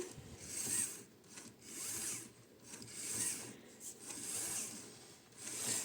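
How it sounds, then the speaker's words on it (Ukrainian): A robot moving and operating gives a rhythmic scraping, rasping whir that swells and fades in repeated cycles at moderate level, with no talking. "Ось так працює робот, як ви бачите."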